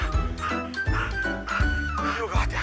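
A police dog yips, whimpers and gives short barks in a busy, excited run of sounds, with a person talking over it close by.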